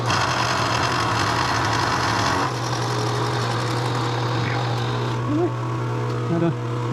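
A metal lathe facing cut on a hydraulic cylinder shaft for a tractor, a steady machine drone with a constant low hum and broadband cutting noise that eases after a few seconds, running close and continuous without talk.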